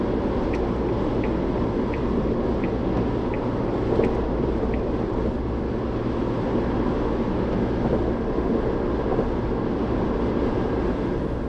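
A Suzuki Jimny's engine drones at about 3,500 RPM while cruising at 70 mph, a steady raucous hum with road and wind roar filling the cabin, continuous and unbroken with no talking.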